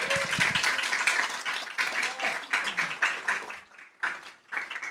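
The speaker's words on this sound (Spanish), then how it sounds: "Un aplauso, por favor." An audience at a closing session of a lecture on Earth's evolution claps, a moderately faint patter of hands that thins into scattered claps after a few seconds.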